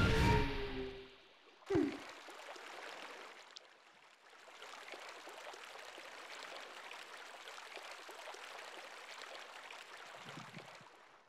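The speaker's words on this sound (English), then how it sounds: "The ice melted and restored the water flow to normal." Steady flowing water in the video game Twilight Princess HD after ice melts and restores the flow, a continuous close rushing wash that begins after a short burst of other game sound.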